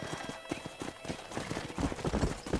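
A horse in Red Dead Redemption slows to a stop, hooves clip-clopping in quick succession up close and growing heavier, with a neigh and a faint voice under it.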